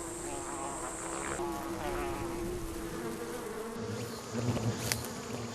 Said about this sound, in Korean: 장수말벌이 드나드는 구멍으로 접근하는 전문가.